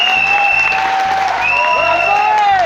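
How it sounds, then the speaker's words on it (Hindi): Crowd applause rolls on continuously beneath a loud musical tone and a steady beat, the clapping forming a constant wash under the music. "अशोक भाटिया जी के लिए बस जोरदार तालियां होनी चाहिए"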